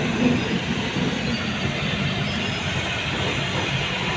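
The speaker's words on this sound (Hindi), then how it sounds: "यूं ही एशिया में सबसे बड़ा नहीं कहा जाता है गोरखपुर का रेलवे स्टेशन।" Steady rumbling and rolling noise of trains at Gorakhpur railway station in India, a continuous broad roar of wheels and carriages with no clear breaks.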